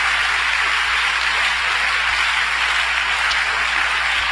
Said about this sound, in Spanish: Yo voy a invitarlo a usted a darle un aplauso fuerte al Señor Jesús.